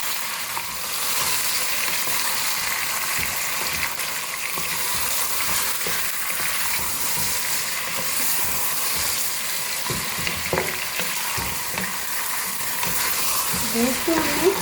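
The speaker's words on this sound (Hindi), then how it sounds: "अब इसको गोश्त के साथ भी भूनेंगे अच्छी तरह से लहसुन अदरक के पेस्ट के साथ।" Beef frying with garlic ginger paste in a pan, a steady dense sizzle with occasional stirring scrapes, fairly loud and continuous, with no talk.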